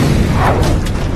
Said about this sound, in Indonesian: lalu mobil pun meledak,